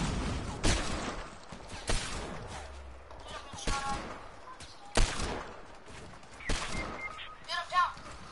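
Scattered gunfire in the video game Fortnite, a string of sharp isolated shots and bursts at irregular intervals, some near and loud, others quieter and farther off.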